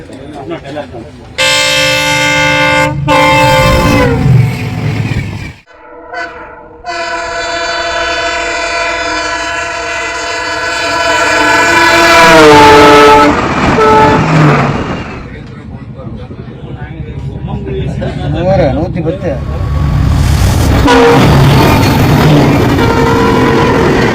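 A passenger train on a trial run on the new Kallakurichi–Chinnasalem broad-gauge line sounds its loud, sustained horn in several blasts, then roars past with rising rail noise while voices are heard nearby.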